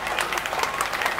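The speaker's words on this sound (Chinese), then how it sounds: "给老师一点掌声可以吗？" A crowd at a temple celebration song-stage show applauds a singer, producing dense, steady clapping that fills the whole short stretch without a break.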